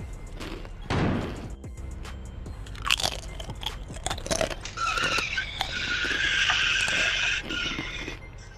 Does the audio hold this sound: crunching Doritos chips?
yes